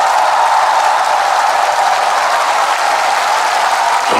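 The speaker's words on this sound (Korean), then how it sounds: "수고해주신 JD 패밀리 신준호 왕자 선생님들한테 박수 한 번만 주시고" Loud, dense applause from a concert audience fills Busan KBS Hall, a steady wash of clapping holding at even strength throughout with no voices on top.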